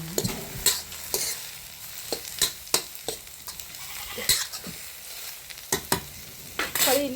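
Onions and tomatoes fry in a pan with a steady sizzle, while a utensil stirs and scrapes, making frequent sharp clacks against the metal.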